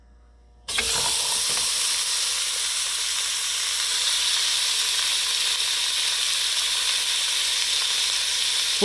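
Meat searing in a hot pot for a pot roast: a sharp onset of loud, steady sizzling that starts suddenly and holds as a constant bright hiss without any talk.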